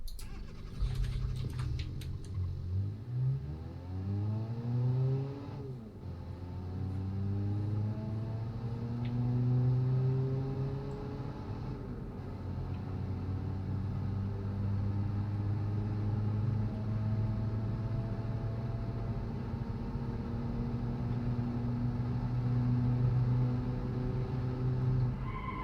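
Transverse four-cylinder front-wheel-drive Japanese car engine in BeamNG revs up and settles, sweeping harmonic whine climbing and falling, then holding a steady drone, alone and moderately close.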